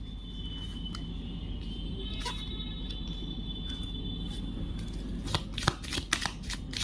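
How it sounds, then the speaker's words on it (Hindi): Tarot cards shuffled by hand, a steady papery riffling with sharp flicks and snaps as cards are drawn toward the end, close and fairly quiet. "एक सेकेंड मैं कार्ड्स निकाल लूँ।"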